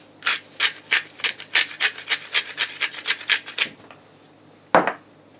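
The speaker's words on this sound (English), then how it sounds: "And then some freshly ground pepper." A pepper mill grinding fresh pepper over refried beans, a close, loud run of about a dozen rhythmic gritty cranks, followed by a pause and one last short scrape.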